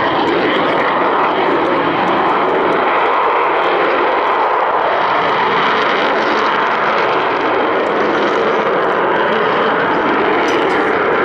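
Avro Vulcan XH558 jet bomber flies a display at Waddington, a loud, sustained engine roar that swells and rumbles continuously overhead without pause.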